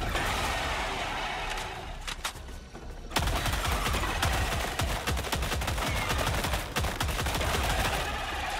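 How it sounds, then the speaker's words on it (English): An arc thrower fires repeatedly in Helldivers 2, crackling electric discharges snapping in rapid succession over a loud, constant background of battle noise. "Still gotta get used to the new fire rate of this arc thrower."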